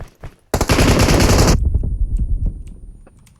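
Automatic gunfire in PUBG Mobile, a single loud sustained burst of rapid shots lasting about a second, followed by faint scattered clicks and game noise.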